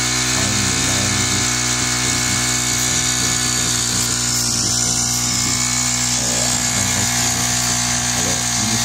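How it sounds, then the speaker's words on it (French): Motorized agricultural sprayer with its small engine running steadily at a constant high buzzing drone, loud and close, with no talk over it. "le monsieur vient de démarrer son produit. Et là, il traite. Regardez la portée de ce pulvérisateur motorisé."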